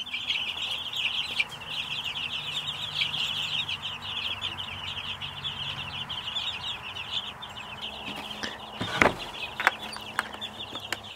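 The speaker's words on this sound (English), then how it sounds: "They can just run around and be chickens and ducks." Chickens cluck and chatter steadily nearby, with a few sharper squawks and knocks near the end; no voices.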